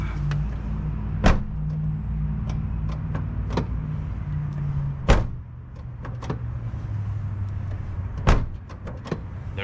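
A 1995 Toyota Corolla's front left door after a handle replacement, heard as sharp mechanical clicks and a louder thunk of the latch releasing, scattered over a steady low idle-like hum, close by.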